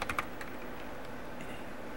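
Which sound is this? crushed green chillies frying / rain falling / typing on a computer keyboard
typing on a computer keyboard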